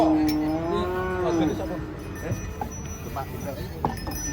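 Cattle being unloaded from a truck: a cow lets out a long, clear moo up close, followed by clattering, knocking and murmuring voices in the background.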